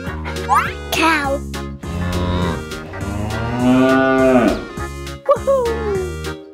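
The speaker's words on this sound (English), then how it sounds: "Cow." A cow mooing loudly and close, long drawn-out lowing calls over several seconds, with excited voices and cheering around it.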